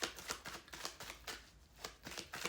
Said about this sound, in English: We'll do 2 more shuffles and then we'll close out.